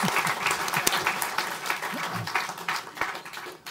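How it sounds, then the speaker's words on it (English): An auditorium audience applauds two speakers at a conversation event: a warm, full round of clapping that stays dense and steady for nearly four seconds, with no talking on top. "round of applause."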